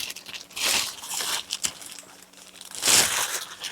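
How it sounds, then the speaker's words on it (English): A plastic bag crinkles and rustles while an Air Venturi Avenger Bullpup II air rifle is unboxed from a molded cardboard box, with two louder close bursts of crackling separated by quieter handling. "Plastic bag, come out."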